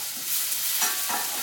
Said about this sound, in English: So you're gonna fry them up